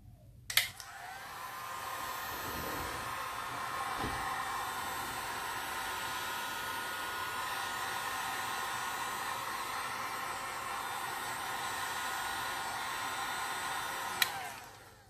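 A heat gun blasts hot air onto epoxy resin paste for an art piece, a steady loud hissing roar that starts abruptly with a click, holds evenly for about thirteen seconds and then cuts off.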